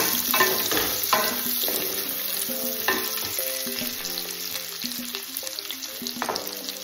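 Onions sizzle steadily over a low flame for a home-made chili chicken, with scraping stir strokes recurring throughout and a faint tonal melody running underneath.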